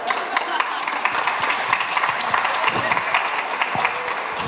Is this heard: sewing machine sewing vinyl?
no